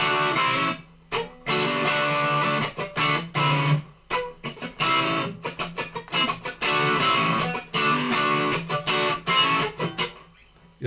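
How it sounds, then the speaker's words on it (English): An electric guitar is played through a distortion effect during a live funk guitar session. Loud, choppy riffing comes in short bursts broken by abrupt stops and brief gaps, with no talking. "let me see if I can put on a little bit of distortion"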